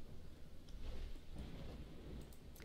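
Thunderstorm in the video game Dawn of Man: a soft, steady wash of rain with low rumbling thunder rolling underneath, fairly quiet throughout, with a few brief brighter crackles near the end.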